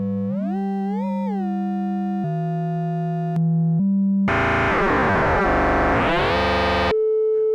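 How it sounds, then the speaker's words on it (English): A Sputnik Modular Dual Oscillator glides and jumps between pitches, starting as a clean sine-wave hum, then turning buzzy and harsh with sweeping modulated sounds before settling on a steady tone. "we start with a simple waveform, so a sine wave"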